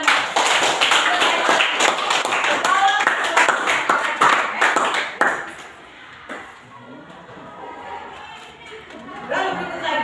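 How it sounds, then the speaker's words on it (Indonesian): Pupils in a classroom clap for a classmate who answered a question, producing a burst of dense, close claps for about five seconds that then fades into quieter room noise and murmur. "tepuk tangan untuk Delmara"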